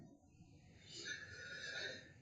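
A horse neigh from the Dominion card game plays as a short, faint whinny with a brief trailing tail, with no talk over it.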